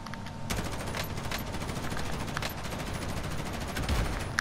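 Gunfire in Call of Duty: Warzone: a steady stream of rapid shots rattling on throughout, with a few heavier bursts standing out, loud and close under the game's noise, no talk heard.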